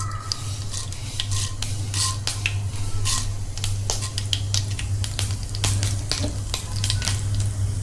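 Mustard seeds crackle and pop in hot oil heated in a pan on a gas stove, a dense run of sharp sizzling pops over a steady low burner hum throughout, close and alone.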